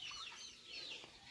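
Chickens cluck faintly in a farm pen kept near turkeys, a brief scatter of soft, distant calls over low background noise.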